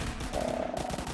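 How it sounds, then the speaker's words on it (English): Fury Cannon weapon firing in the Roblox game Zombie Attack: a short, rapid run of fast repeating shots, moderately loud and close. "this is the Fury Cannon"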